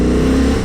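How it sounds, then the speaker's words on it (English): Honda CB750 Hornet motorcycle engine pulling hard under acceleration, a brief loud close droning growl with a steady pitch and no voices. "the sheer pleasure the engine gives me whenever I ask it for power, like now."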